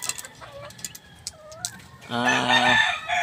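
Young stag roosters in a backyard pen cluck in short calls, then one lets out a loud, close crow that fills the latter half.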